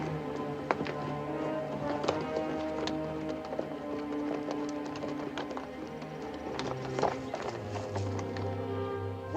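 Steady clopping of horse hooves close by, a continuous rhythmic clatter with faint background rumble and no talking.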